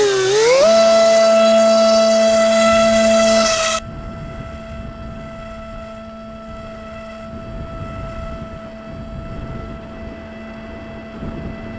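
RC Super Sky Surfer foam plane with a small 3-blade prop flying overhead, a loud steady motor whine that rises in pitch early, then drops to a quieter, sustained distant drone with wind noise.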